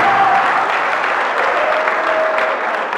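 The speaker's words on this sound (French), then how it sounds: "Est-ce qu'on peut applaudir pour le modérateur?" Audience at a debate on a common African currency applauding the moderator, a thick, steady roar of clapping that stays loud and even throughout.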